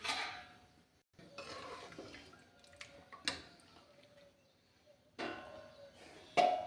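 Moth bean dal with a fresh tadka is stirred in a pot, giving quiet, intermittent scrapes and clinks of a spoon against metal with faint wet drips between them, and no talking.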